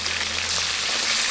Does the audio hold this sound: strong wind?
no